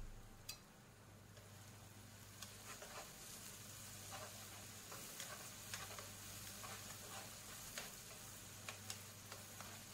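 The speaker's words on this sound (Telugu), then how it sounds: "అల్లం వెల్లుల్లి పేస్ట్ వేసాను. దీన్ని కూడా బాగా ఫ్రై చేసుకోవాలి." Ginger garlic paste fries in a pan with a steady soft sizzle, faint and continuous, broken by occasional light ticks of stirring, with no voices.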